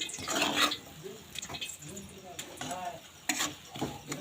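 Biryani masala frying in a pot on a gas stove at medium heat, with repeated stirring scrapes and a light sizzle close by, while a person talks over it.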